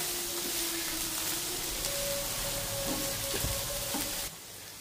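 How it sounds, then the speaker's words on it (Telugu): Tomatoes sizzle in a pan over a medium flame for a paneer burger filling, a steady close hiss with occasional stirring clinks, no talking. "మీడియం ఫ్లేమ్లో పెట్టుకొని వేయించుకోవాలి. మనకి టమాటా మగ్గే వరకు వేయించుకోవాలి."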